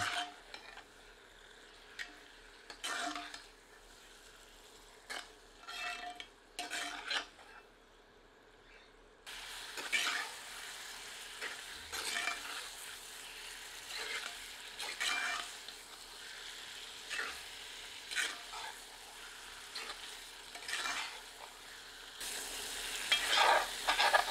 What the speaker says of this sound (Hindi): हमें सामग्री को पाँच से सात मिनट तीव्र आंच पर भूनना है पर निरंतर करछी चलाते रहना है ताकि मसाला तली पर चिपक कर जले नहीं